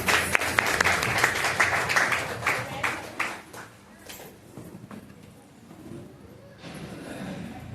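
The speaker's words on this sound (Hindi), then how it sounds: "तो एक बार जोरदार तालियां उनके लिए" Audience applause at a birthday celebration event for someone about to recite a poem, a burst of clapping that thins out and fades, with some chatter mixed in near the end.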